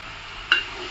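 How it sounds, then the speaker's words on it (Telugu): Onions and green chillies with a spoon of salt fry in a pan, giving a quiet, steady sizzle broken by one short, bright scrape of a spoon halfway through. "ఇందులోనే కొద్దిగా పచ్చిమిరపకాయలు, కట్ చేసి పెట్టుకున్న ఉల్లికాయలు వేసుకొని ఒక స్పూన్ సాల్ట్ వేసుకొని ఫ్రై చేసుకోవాలి"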